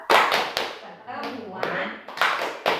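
A group of women at a P2K2 family-empowerment meeting clap in a rhythmic chant pattern, sharp bursts of hand claps spaced in a beat while voices chant along between them.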